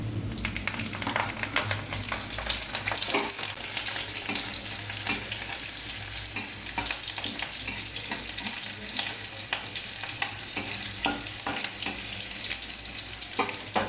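Whole garam masala spices, with peppercorns, dried red chillies and a bay leaf, fry in hot oil for chicken rezala, giving a continuous loud crackling sizzle with scattered pops and occasional stirring scrapes.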